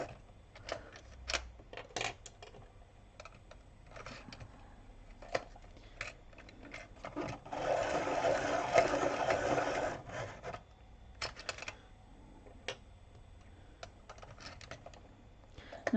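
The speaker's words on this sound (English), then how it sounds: "Give that a bit of a point again. May as well while I've got sharpener here." A handheld sharpener grinds the tip of a coloured pencil during a drawing session. A faint, scratchy rasp of a few seconds sits amid quiet clicks and taps close by.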